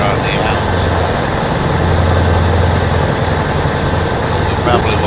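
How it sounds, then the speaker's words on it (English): Heard from outside, the American Truck Simulator video game truck's engine runs as a steady low drone with a faint higher whine, continuous and fairly loud from start to finish, with no talk over it. "Now, this truck is a little louder on the outside"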